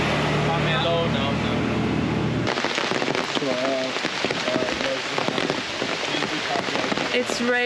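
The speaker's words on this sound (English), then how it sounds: "It's raining." Rain falls in Ubud, Bali, as a dense, steady patter of drops on surfaces, starting abruptly partway through and continuing, with voices talking over it.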